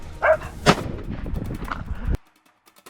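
A rifle shot during a wild boar hunt, a sharp loud report in the open with rumbling echo, followed by outdoor noise that cuts off abruptly.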